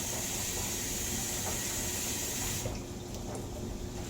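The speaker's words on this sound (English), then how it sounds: "Let me wash my fork off." Tap water runs steadily into a kitchen sink while a fork is rinsed, a constant close hiss that cuts off partway, leaving a quieter background.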